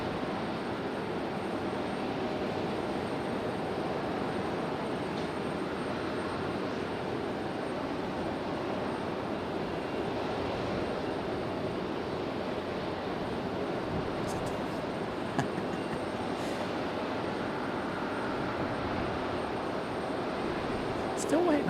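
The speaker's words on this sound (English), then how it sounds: "This Delta 1337 on an A321-200." Delta Airbus A321-200 arriving from Orlando at Raleigh-Durham airport, a steady broad jet roar held at an even, moderate level throughout, with faint voices underneath.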